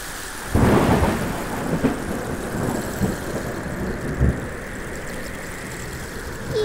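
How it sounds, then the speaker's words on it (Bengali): A cartoon thunderstorm: a loud thunder crash opens, steady rain hisses throughout, and a second rumble of thunder rolls in later, with no voices. "এখন ঝড় শুরু হলো বলো তো?"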